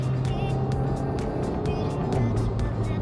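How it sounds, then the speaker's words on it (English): A 2020 Renault Koleos 2.5L with a 6-speed dual clutch transmission, its engine droning close by while a string of sharp, regular clicks and pops marks the upshifts. "And this one equipped with the 6-speed dual clutch transmission. It makes that kind of noise during upshifts."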